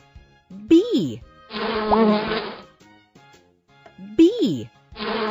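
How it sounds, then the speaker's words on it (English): A bee buzzing, a sustained buzz of about a second set between short sung or spoken children's phrases, then returning briefly at the end. "Bee."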